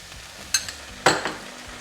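Ginger garlic paste sizzles in a hot pan of oil, with two sharp crackling bursts as it is stirred against a low frying hiss.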